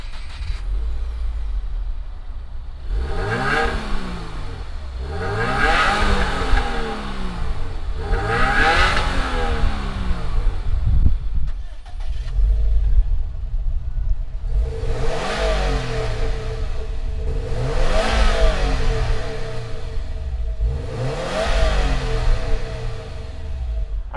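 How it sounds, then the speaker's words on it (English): Two 2020 Subaru sports sedans, an STI and a WRX, start up and are revved: three sharp rising-and-falling revs, a short pause, then three more, loud and close with idle rumble between. "Let's go ahead though, fire these two up and see what they sound like."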